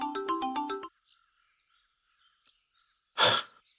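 A phone ringtone plays a short, bright electronic melody close by, then cuts off into near silence before a loud breathy exhale or sigh.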